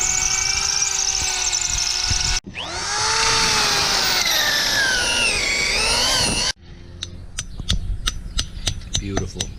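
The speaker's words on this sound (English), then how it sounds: "we're gonna drill four holes" A power drill bores holes while greenhouses are set up for winter on a farm, loud whining motor runs that rise and fall in pitch across two bursts, followed by sharp rapid clicks and knocks.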